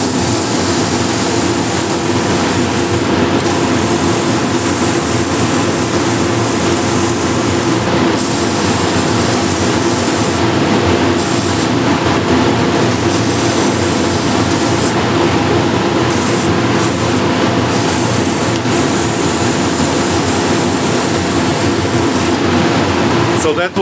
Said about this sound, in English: I'm going to sand this lightly with 180 grit